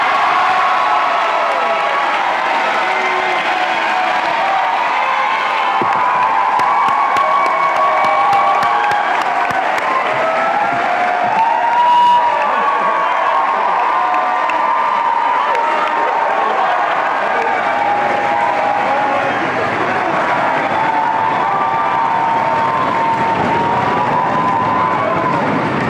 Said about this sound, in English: please give a warm welcome and applause to Derek Wang